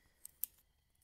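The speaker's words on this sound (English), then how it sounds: "this bird is letting me put the scissors press against his body" Scissors cutting the material that traps a rescued bird, giving two quick, crisp snips close up, the second louder, in an otherwise quiet moment.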